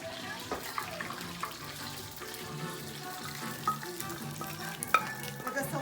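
A tadka of spices and cilantro fries in coconut oil, a soft, steady sizzle with occasional crackles and stirring clinks, faint and continuous.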